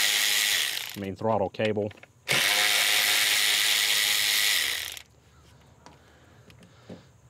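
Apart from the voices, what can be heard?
ratchet removing 8 mm bolts from a throttle body bracket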